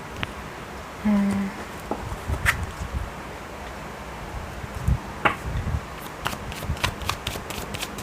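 Tarot cards are shuffled and drawn by hand in quick, close bursts of riffling and flicking snaps, with a brief tone partway through and soft talking between the card sounds.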